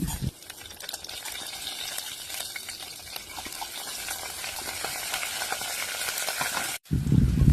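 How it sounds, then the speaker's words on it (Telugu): Tempering spices frying in oil in a pan give a continuous loud close sizzle with frequent spatula scrapes and taps, briefly cutting off before resuming, no talking. "ఒక ప్యాన్లో ఆయిల్ వేసుకొని పోపు దినుసులన్నీ వేసుకోండి"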